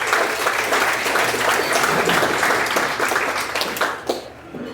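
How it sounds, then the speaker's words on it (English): A county award gathering breaks into loud, dense applause for volunteers, many hands clapping steadily before tapering off near the end. "Let's have a applause"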